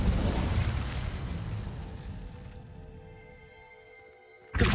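The Incendio fire spell in Hogwarts Legacy goes off as a loud fiery burst that fades into a dwindling rumble, followed by a sharp new burst right at the end.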